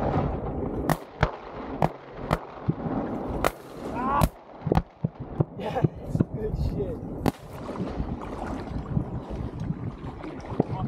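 Repeated sharp shotgun blasts ring out across open water during an opening-morning duck hunt at Catahoula Lake, Louisiana, several loud reports spaced irregularly over steady outdoor noise, with hunters talking in between.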